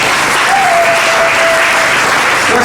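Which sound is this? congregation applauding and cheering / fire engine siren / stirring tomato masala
congregation applauding and cheering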